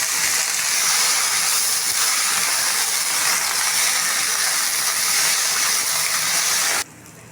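Loud, steady sizzle of mint leaves frying in oil in a pan, a constant hissing wash that cuts off abruptly near the end.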